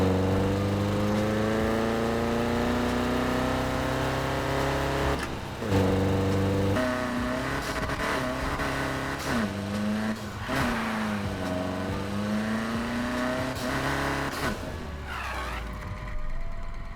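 A car's engine and exhaust in the Need for Speed Heat racing game rev and climb through gears, loud and continuous, with repeated surges, shifts and crackling lifts as it accelerates.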